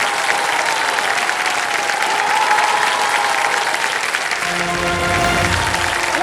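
A large studio audience on a TV quiz show claps loudly and continuously. Toward the end the clapping thins and fades as a low hum and a brief tonal sound come up beneath it.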